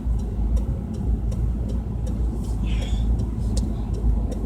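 Cars pass steadily on a road, a continuous low traffic rumble heard from inside a vehicle with faint background noise throughout.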